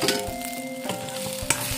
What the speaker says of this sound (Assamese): এইখিনি সময়তে আদা নহৰুখিনিও লগত দি দিছোঁ আৰু লৰাই দিছোঁ অলপমান ডিমটো ভাঙি দিছোঁ